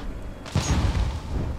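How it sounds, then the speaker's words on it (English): A gas bomb goes off in the survival game Conan Exiles: a single dull boom with a low rumbling tail, moderately loud over steady background noise. "Was that your bomb? Yeah, it was a gas bomb."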